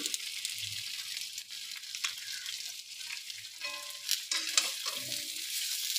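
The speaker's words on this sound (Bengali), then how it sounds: "এখন এটাকে একটু ভালো করে ভেজে নেব।" Hilsa fish frying in oil seasoned with salt and turmeric, a close, even hissing sizzle with light crackles and a few soft stirring knocks, fairly quiet and steady without speech.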